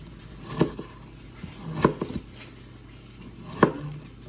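A knife cuts onions into smaller pieces on a board while preparing souvlaki, giving three sharp, isolated chops spaced about a second apart, close and fairly quiet.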